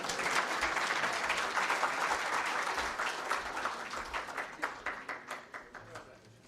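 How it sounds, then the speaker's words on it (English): Audience applause at a Konrad Adenauer Stiftung event in Kenya, a dense, steady burst of many hands clapping that thins into individual claps and fades toward the end, with no talk over it. "Another round of applause for our guests this afternoon."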